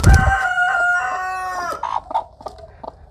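A chicken crows and clucks loudly and close by, a long drawn-out crow followed by shorter clucking calls, with no talk over it.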